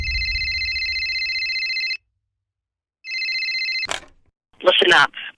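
An electronic telephone rings in two long bursts separated by a pause, loud and close. A short clatter follows, then a voice is heard.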